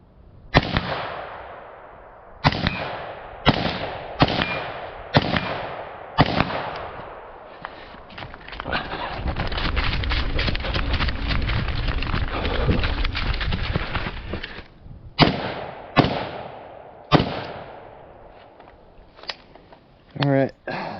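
Pistol shots ring out at steel targets from a braced Glock 34 on a shooting range: sharp, loud cracks in quick spaced strings, with a stretch of continuous noise in the middle and another burst of shots toward the end.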